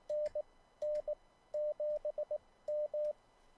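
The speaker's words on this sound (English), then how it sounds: "this is what it sounds like in Morse code." Morse code sidetone spells out a radio call sign in clean, steady beeps of one pitch, long dashes and short dots grouped into letters with brief gaps, fairly quiet and alone without speech.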